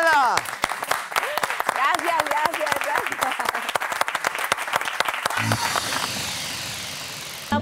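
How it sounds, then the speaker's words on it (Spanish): Audience applause during a live variety show, many hands clapping loudly and sharply with a mix of scattered and rapid claps over fading music, then tapering into a quieter tail. "¡Fuerte aplauso para Gisela!"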